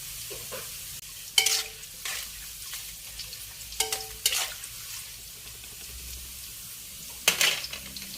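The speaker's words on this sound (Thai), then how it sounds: "ทอดให้เหลืองกรอบแบบนี้นะคะ" Minnow fish deep-fry in a pan of oil over medium heat, a steady sizzle broken by the scrape and clink of stirring.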